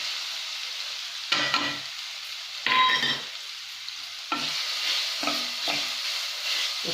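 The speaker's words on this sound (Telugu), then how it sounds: "కొంచెము వేగిన తర్వాత మనము ఈ ఉల్లిపాయ ముక్కలు వేద్దామండి." Onion pieces fry in a pan with a steady hiss while a spoon stirs them in several short scraping bursts for a vegetable Manchurian.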